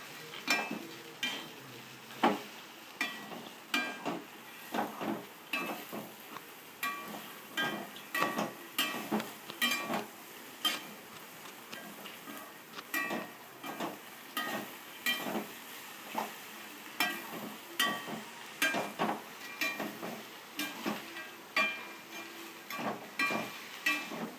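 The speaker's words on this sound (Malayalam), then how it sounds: "നല്ലോണം ഇളക്കി ചേർത്തിട്ട് അതിങ്ങനെ ഒരുമിച്ച് ചേർത്ത് കൊടുക്കണം" A sprouted green gram stir-fry is stirred in a pan, giving rhythmic scraping and clinking strokes that repeat steadily over a quiet background sizzle. No one talks.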